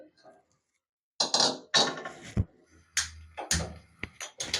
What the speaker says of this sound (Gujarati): તો આપણે આ લોટી મૂકશું